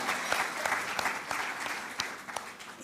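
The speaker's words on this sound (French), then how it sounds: "S'il n'y a plus de questions, on applaudit" An audience applauds after a question session at a talk, a sustained round of clapping with distinct individual claps standing out, fairly close and fading slightly toward the end.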